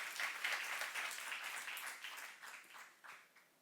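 A church youth congregation applauds during a sermon, a full wash of clapping from many hands that holds steady and then begins to taper off, heard without speech.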